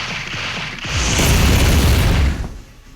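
In the video game Blox Fruits, a Ground Smash attack sets off a loud, close, rumbling explosion that swells, holds for about a second and then fades.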